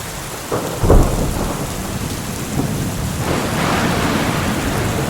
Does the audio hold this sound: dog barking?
no